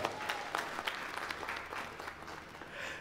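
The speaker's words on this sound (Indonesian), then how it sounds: "Tepuk tangan untuk kita semua" Audience applause at an Indonesian community event themed on equality and diversity, a steady wash of many clapping hands lasting about three seconds at moderate loudness, with no talk over it.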